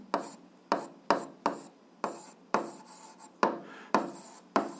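Pen or chalk strokes scratch out writing for an algebra problem, about a dozen short, sharp scrapes in an uneven rhythm, close and fairly faint, with no talking.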